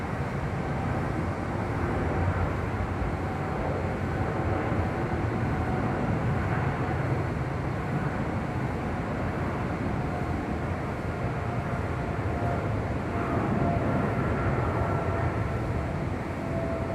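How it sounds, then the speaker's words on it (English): A heavy Boeing 777 departs the parallel runway at LAX, heard as a steady, broad distant jet roar that holds evenly throughout without any voices. "caution wake turbulence, heavy 777 departing the parallel runway"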